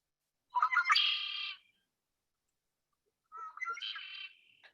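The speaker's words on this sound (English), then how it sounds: "And this is, of course, red-winged blackbird." Two separate calls from a red-winged blackbird, each a short clicking lead-in swelling into a buzzy trill, spaced a couple of seconds apart against near silence, clear and moderately close.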